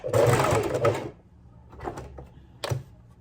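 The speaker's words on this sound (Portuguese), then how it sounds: "Retrocesso, segue a costura." A sewing machine stitching along a line with a backstitch, a close rapid mechanical whir for about a second, then quiet with a couple of short clunks from the machine.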